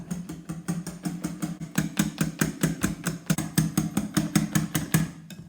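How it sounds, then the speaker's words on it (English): Cream with a teaspoon of vanilla extract being whisked by hand in a bowl for a Black Forest cake, a fast, steady run of close, crisp strokes with no talk. "Keep whisking away until your cream thickens up."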